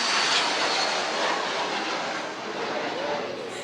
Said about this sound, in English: Airplane break.